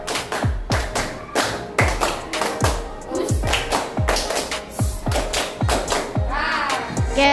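A group claps in unison for the Indonesian tepuk icebreaker game, sharp rhythmic claps in counted patterns with short pauses between groups, loud and close, with a few faint voices in the background.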